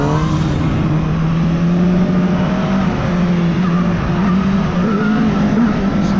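A KOVE 450R four-cylinder street motorcycle being ridden, its engine a loud, continuous droning hum with shifting pitch as the throttle varies, steady throughout with wind rush and no talking.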